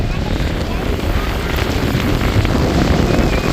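Strong wind roars constantly across the microphone at sea during fishing, with choppy waves and boat noise beneath a dense, unbroken rush.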